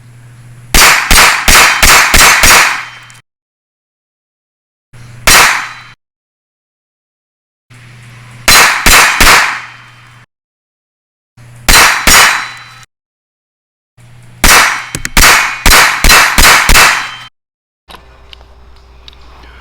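Springfield 911 pistol fired at a range in bursts of rapid, sharp, loud cracks, several quick shots in a row separated by silent pauses, with one single shot and a faint hum between strings.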